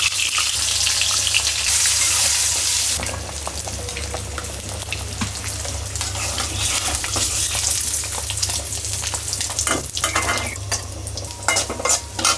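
Eggs frying in a pan with turmeric and salt, a loud steady sizzle with occasional stirring and utensil scrapes throughout, no voices.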